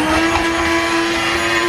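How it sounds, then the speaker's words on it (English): A Hamilton Beach blender runs steadily and loudly throughout, a constant motor whine with a strong hum that never changes pitch. "Don't buy this blender."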